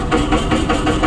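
A tractor engine sound played from the external speaker of a 2025 Zeekr X electric car, chugging with a pulsing, rhythmic knock, loud and continuous throughout.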